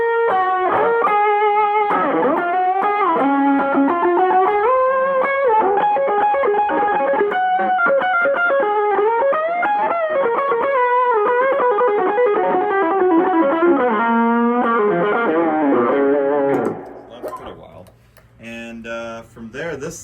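An electric guitar played through a second overdrive pedal in a country jam band rig, loud sustained distorted chords and bends, ending with clicks and pedal noise.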